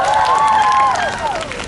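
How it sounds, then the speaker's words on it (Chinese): A concert crowd at an outdoor year-end show at Taipei 101's water dance plaza cheers and screams loudly and continuously, with a bright high-pitched shriek rising and falling over steady clapping. "给自己掌声加尖叫声"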